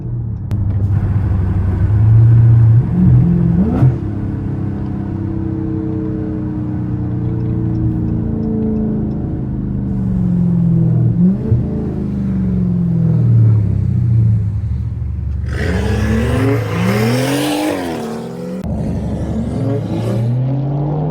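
A 500hp Scat Pack car engine revs while driving, with deep rumbling rising and falling pitch sweeps and a louder, harsher burst of revving near the end, heard from inside with no talk.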